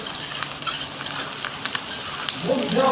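Duck meat is fried in a home kitchen pan with a steady, close hiss and sizzle, broken by light scraping stirs and faint clinks throughout.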